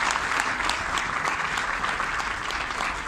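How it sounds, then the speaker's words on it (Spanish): Audience applauding two companies at a community event, a dense, steady round of clapping heard throughout at moderate loudness, without voices. "Yo quiero pedirles a todos ustedes un aplauso para estas dos grandes empresas"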